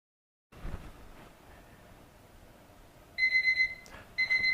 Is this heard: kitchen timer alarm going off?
yes